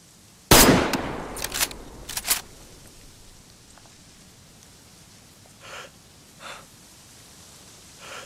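Gunshots ring out in the video game DayZ: a loud sharp crack followed by a few quick reports, then several fainter, more distant shots spaced apart over quiet background.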